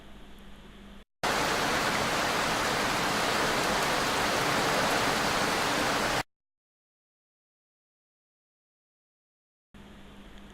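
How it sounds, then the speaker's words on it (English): Steady, even rainfall hisses loudly for several seconds, preceded and followed by quieter background noise and a stretch of silence. "Now you have listened to the sound of rain, right?"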